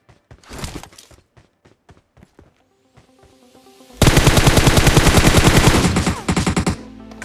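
Rapid automatic gunfire from a PUBG Mobile match near a school, starting with scattered single shots and then a loud, dense sustained burst for about three seconds, followed by a few trailing shots.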